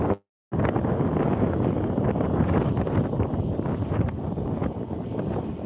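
Steady breezy wind gusting outdoors over a microphone, loud and continuous after a brief silent gap at the start, with rumbling buffeting and no talk.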